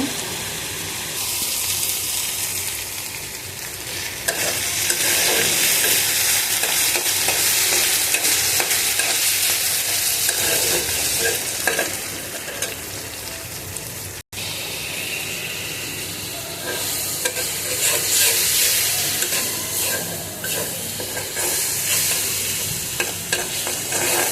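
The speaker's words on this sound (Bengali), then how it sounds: "ভাজতেছি, এখনই রান্নাটা করে নিব।" Whole prawns fry in a pan, a loud, steady sizzle and hiss with scraping stirs running almost continuously, broken once by a brief silence before the frying resumes just as strongly.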